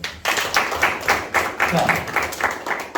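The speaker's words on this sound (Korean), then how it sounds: "박수 한번 주시죠." A small group claps together in a brief round of rhythmic applause, steady and close, lasting a few seconds.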